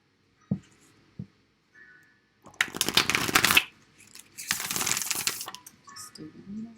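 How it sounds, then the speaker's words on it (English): Tarot cards being pulled from a deck and dealt, heard as two sharp taps, then two longer bursts of riffling and sliding card noise with quieter rustles in between, close and fairly soft. "I'm going to pull some cards, and I'm going to move the camera down so you can see the cards as they are being dealt"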